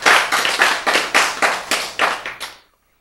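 Hands clap together in a steady rhythm during a church sermon, about ten crisp, close beats that stop abruptly into silence.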